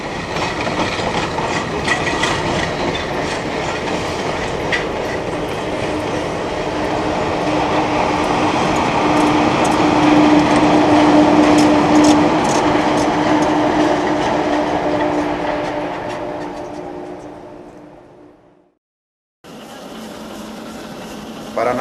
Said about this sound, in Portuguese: Aqui, o trem é içado por cabos e atravessa a montanha dura em várias seções.